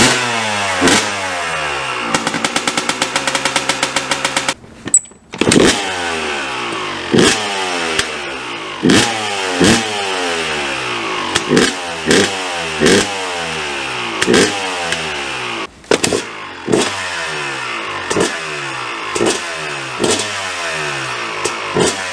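A Yamaha YZ250 dirt bike fitted with a KTM exhaust silencer revs repeatedly nearby, its engine climbing and dropping in rhythmic bursts between idle, loud and alone.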